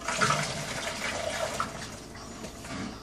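Hot water splashes and gurgles as it is poured into a container during a home brew session for an orange extract beer kit, a steady close stream that tapers off.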